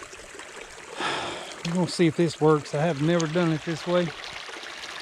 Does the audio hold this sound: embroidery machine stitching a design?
no